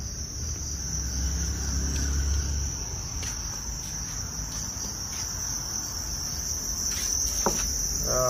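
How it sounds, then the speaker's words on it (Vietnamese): Farmed crickets chirp in a dense, continuous, high-pitched trill that stays close and steady throughout, with occasional faint clicks and knocks behind it. "Có rất nhiều loại dế."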